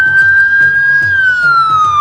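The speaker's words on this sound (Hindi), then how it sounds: "ambulance in Denmark" A loud, close ambulance siren in Copenhagen, Denmark wails in a sustained tone that slowly drops in pitch, with traffic rumbling underneath.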